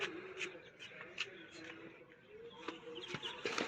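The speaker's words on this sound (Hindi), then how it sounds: "पक्षियों की सुनाई दे रही है।" Birds call in dense forest near a hilltop temple, a scatter of short chirps and clucking notes repeating irregularly, faint and distant amid soft outdoor ambience.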